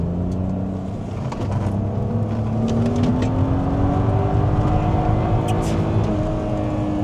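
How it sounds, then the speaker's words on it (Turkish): A car engine drones steadily from inside the cabin while driving, a continuous low hum with slowly shifting pitch and faint road noise, with no talk. "Yani bakıyorum şu an sadece motor sesi geliyor. Hiç rüzgar sesi falan yok."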